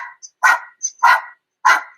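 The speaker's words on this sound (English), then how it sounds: "taking just a few slow pants out the mouth" A yoga practitioner takes slow panting breaths out through the mouth with the tongue extended: three forceful, breathy huffs, evenly spaced and close, with short quiet gaps between them.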